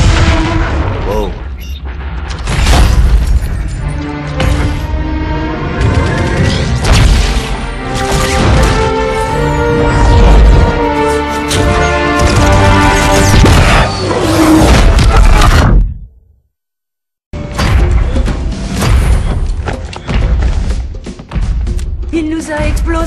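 Heavy explosions and crashing from .50 calibre fire in a Halo 2 Anniversary cutscene, loud booms and impacts layered with a dense score, cut by a brief silence before the blasts resume.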